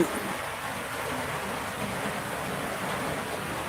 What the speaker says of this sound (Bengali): বাহিরে এত পরিমাণে বৃষ্টি হইতেছে যা